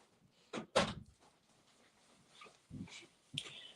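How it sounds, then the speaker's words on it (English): A door swings shut indoors with a couple of soft thumps and a latch click, followed by scattered handling noises and a brief rustle, fairly quiet and close. "let's close this door."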